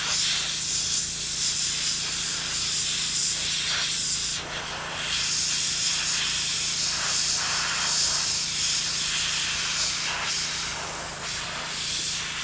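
Airbrush spraying contrast paint onto Frosthaven miniatures: a steady, close airy hiss of compressed air that runs continuously with slight dips, no speech over it.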